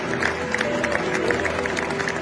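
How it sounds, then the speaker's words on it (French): A Manchester City stadium crowd applauding in tribute in the sixth minute of a match, a broad wash of steady clapping and murmur filling the stands throughout, with no single sound standing out. "À la minute 6 du match, tout le stade a applaudi en signe d'hommage"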